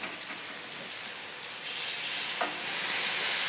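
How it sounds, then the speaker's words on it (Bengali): Warm water poured into a pan of chicken cooked down with spices for chicken makhani, with a steady sizzling hiss that swells louder partway through and carries on without talk. "এখন আমি এর ভিতরে দিয়ে দেবো উষ্ণ গরম জল"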